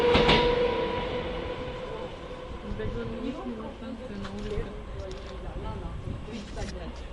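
Rumbling, clattering above-ground Moscow metro train at Izmaylovskaya running on its rails with occasional squeals, while people talk nearby over the noise.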